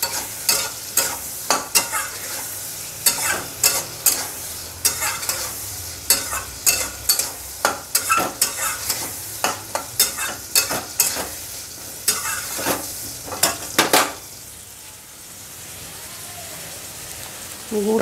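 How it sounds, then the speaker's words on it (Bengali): Vegetables sautéing in a pan, with sharp, repeated scraping and clattering strokes of a spatula over a steady sizzle that runs through most of the stretch, the stirring stopping near the end and leaving only the soft frying hiss. "সবজিটাও একটু কষিয়ে নেব"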